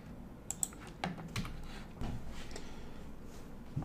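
Computer keyboard keys tapped in short irregular clicks and bursts, fairly quiet and close, while values are entered in Autodesk Inventor sketching software.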